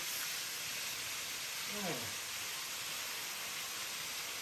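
Raccoon meat frying in a pan on a propane burner, a steady loud hiss and sizzle filling the whole clip, with a brief rumbling scrape partway through.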